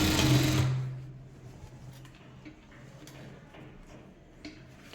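Sewing machine running a short burst of stitching along a kurti's V-neckline, loud at first then stopping after under a second, leaving quiet room noise with faint clicks.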